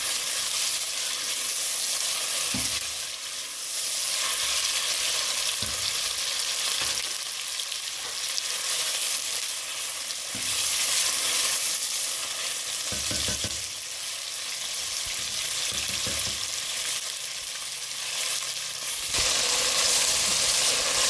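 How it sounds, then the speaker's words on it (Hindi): Chunks of beef fry in a pan with ginger and garlic, giving a continuous loud sizzle and hiss with occasional stirring scrapes throughout. "अब हम गोश्त को 4-5 मिनट भूनेंगे इसके अंदर"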